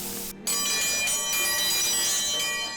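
A ranch dinner bell rings out with bright, sustained metallic tones, cut off briefly, then struck again and left ringing for a couple of seconds, with no voices over it.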